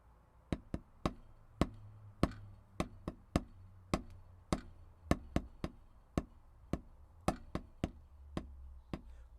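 Sharp, dry drum stick strokes playing the single dragadiddle rudiment, a steady pattern of quick grouped hits with accents, played alone at a moderate pace.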